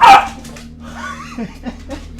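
A dog gives a sharp bark or two right at the start, followed by quieter whimpering yips, with faint human sounds in an indoor room.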